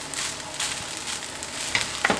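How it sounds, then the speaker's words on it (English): Rice for garlic butter fried rice fries in a pan with a soft, steady sizzle, broken by a few light scraping stirs and clicks toward the end. "So you add in the rice and then just go ahead to give it a stir."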